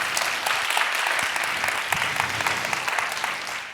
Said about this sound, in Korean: 한번 박수 한번 줘요.